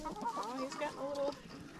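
An Americana chicken on a homestead clucks softly in a quick run of short throaty notes, fairly quiet and close, over a low background.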